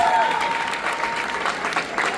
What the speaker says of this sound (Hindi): तालियां हो जाए इन सबके लिए प्लीज।